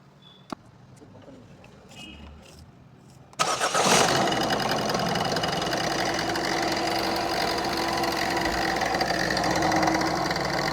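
A Ford Figo car engine starts after an oil service: a few faint clicks and quiet shuffling, then an abrupt crank catches and settles into a steady, loud, close idle that runs on without pause.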